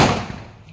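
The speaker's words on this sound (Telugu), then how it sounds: "మా వాళ్ళు ఇంకా బాంబులు వేలుస్తుర్రు" A Diwali firecracker bursts with one sharp, loud bang up close, then quickly fades into a short rumbling decay.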